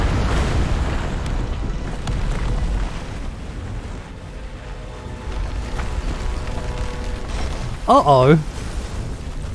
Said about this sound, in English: Slowly crumbling rocks.